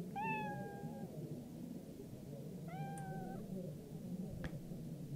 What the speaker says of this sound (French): On a également les effets avec la présence des chats, les chats que vous connaissez désormais.